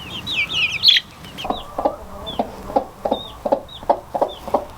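A mother hen clucks softly in a regular series of low calls while her single newly hatched chick peeps in thin, high chirps, strongest at the start, close by on a farm.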